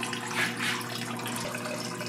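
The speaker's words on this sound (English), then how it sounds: "we need to drain any water that's remaining out of the block." Water drains from the engine block of a John Deere 755 compact tractor into a bucket as a steady, soft trickle over a low background hum.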